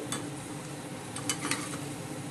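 Onion vadiyalu fry in a hot pan, a low steady sizzle under occasional stirring scrapes and light clinks of a spoon against metal, fairly quiet and close.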